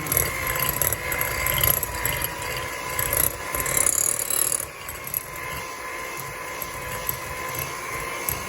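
An electric hand mixer creams butter and sugars for chocolate chip cookies with a loud, continuous motor whine, close by, which drops to a lower, quieter drone for the remainder.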